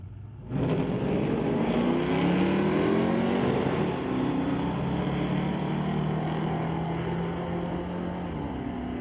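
Two cars at a street-legal drag strip, an El Camino racing a 1990 S10 Blazer, launch together with a loud sustained engine roar and overlapping revving tones that stay strong and near across the run.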